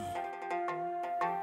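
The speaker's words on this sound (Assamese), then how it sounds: "ফোনটো বাজে দেখোন" A phone ringtone plays a quick series of bright electronic melodic tones, clear and alone for a moment.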